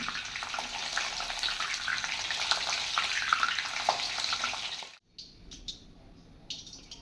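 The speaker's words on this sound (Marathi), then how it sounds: "वड्यांबरोबर खाण्यासाठी आपण ही अशी हिरवी मिरची तळून घेत आहोत" Green chillies fry in hot oil for vada pav, giving a steady bubbling sizzle that cuts off abruptly, after which only faint clinks and small crackles remain.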